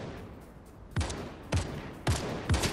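Four sharp gunshots in a Fortnite match, spaced about half a second apart and standing out above a steady low background hum.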